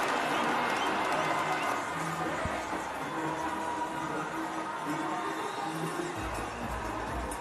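Big stadium crowd roaring and cheering at a West Indies cricket match after a string of sixes, a loud sustained wash of noise throughout with no clear breaks.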